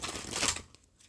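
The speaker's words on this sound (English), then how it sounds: "I'm just going to quickly pre-shuffle" A short, crisp riffle of tarot cards being shuffled, a quick papery burst that fades into near silence within a second.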